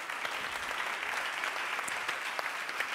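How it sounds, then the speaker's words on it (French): Audience applause at a circular economy challenge event, a steady dense clapping from a crowd lasting the whole stretch, fairly distant and even without pauses. "applaudissez Benjamin Blanchard, s'il vous plaît"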